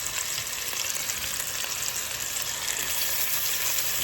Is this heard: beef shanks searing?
yes